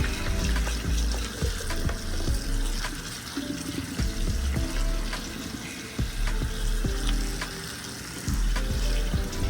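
Six cut-up apples rinsed under a running kitchen tap, a steady close water rush with clattering and bumping of fruit and dishes in the sink throughout, no talking.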